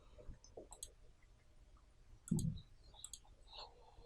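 A computer mouse clicks sharply a few times while working in CorelDRAW, small isolated taps spaced over a few seconds in an otherwise quiet room.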